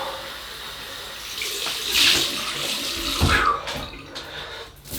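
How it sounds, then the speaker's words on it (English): Cold tap water runs steadily into a sink for a rinse after a wet shave with a slant double-edge razor and shaving soap, a close, continuous splash with faint handling noises and no talk. "cold water rinse."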